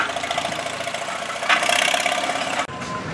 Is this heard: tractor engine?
yes